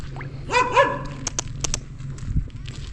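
Dogs in a household with three large dogs and two puppies give a couple of quick high barks and yips nearby, followed by sharp clicks and faint shuffling noises.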